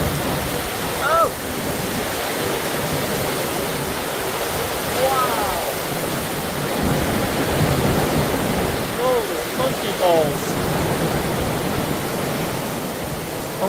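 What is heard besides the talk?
heavy rain pouring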